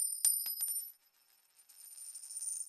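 A small keychain holding just one key gives a bright metallic jingle that starts with a few quick clinks, pauses briefly, then returns as a soft continuous shimmer, close and fairly quiet.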